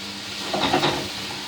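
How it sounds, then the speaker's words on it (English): Vegetable pasty filling of carrots and potatoes stirred in a hot pan: a steady close sizzle with a brief scraping stir in the middle. "And I'll give it a little stir."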